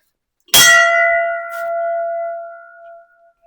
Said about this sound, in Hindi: घंटी बजा दी मैंने